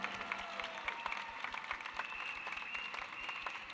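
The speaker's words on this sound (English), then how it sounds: "Give them another big round of applause" A large outdoor lunchtime election rally crowd applauds its new candidates, with steady clapping under a sustained cheer and a few individual sharp claps standing out near and far.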